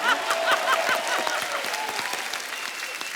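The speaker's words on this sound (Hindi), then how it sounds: "एक बार हमारी ऑडियंस के लिए भी ताली हो जाए।" A studio audience at a comedy talk show applauds in a full, continuous burst of clapping that fades slightly over a few seconds, with faint voices mixed in.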